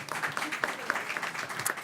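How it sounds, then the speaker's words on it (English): Brief applause from an audience at a policy briefing on racism, a patter of clapping at moderate level with a sharper clap near the end. "We can clap for that."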